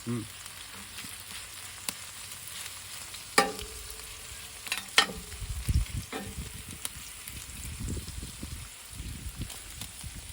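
A healthy hamburger cooking on a barbecue grill, giving a soft continuous sizzle punctuated by a few sharp clicks and scraping knocks, close by with no voices.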